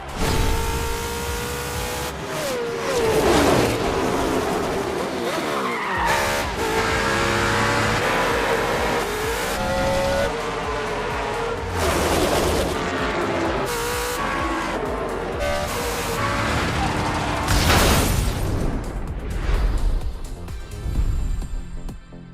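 Race cars roar past in The Crew Motorfest video game at a NASCAR event in Hawaii. Engines rev loudly and rise and fall in pitch with repeated pass-bys, and tires squeal through the whole run.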